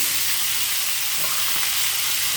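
Chopped onion and two tomatoes sautéing in a pan for egg masala, giving a steady close sizzle and frying hiss with faint stirring scrapes, no voices.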